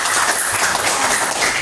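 A classroom of students claps for a classmate named Malik, a dense, steady patter of many hands applauding at once for under two seconds.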